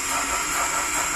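Smoke generator on a Piko H0 model steam locomotive hissing alongside its sound module, a steady close broadband hiss with faint chuffing pulses underneath, brief and continuous with no talking.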